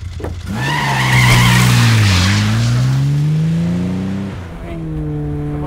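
A car skids with tires squealing in a loud, sustained screech that bends in pitch, then a second squeal follows near the end, close and dominant over the engine noise.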